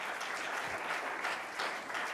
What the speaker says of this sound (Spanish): licenciado Raúl Collins, sí, bueno, Treviño, a quien le damos un aplauso.